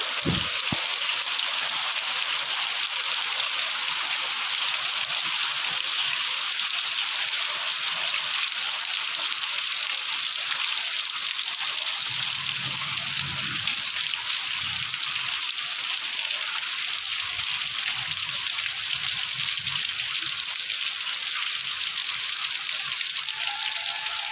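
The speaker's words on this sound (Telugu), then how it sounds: "చాలా పెద్ద వర్షం పడుతుంది చూడండి" Heavy rain pours down steadily, a dense, unbroken roar of drops hitting surfaces, with occasional faint low rumbles beneath.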